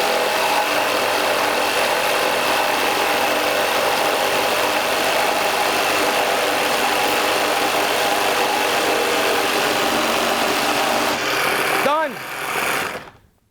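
Milwaukee cordless power tool cutting through 2x4 lumber, a loud sustained whining, grinding drone for about twelve seconds that stops abruptly, followed by a short rising whir as the motor winds down.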